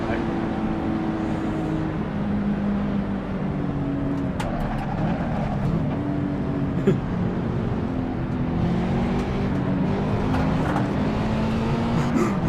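A race car engine in Assetto Corsa at Imola, droning loudly and steadily with shifting pitch as the throttle rises and falls, with someone talking over it.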